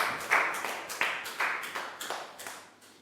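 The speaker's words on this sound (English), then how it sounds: "High five and a big round of applause for Prau." Pupils in a Year 3 maths class clap for a classmate, a steady run of about seven crisp claps at a regular beat, close and moderately loud with no talking.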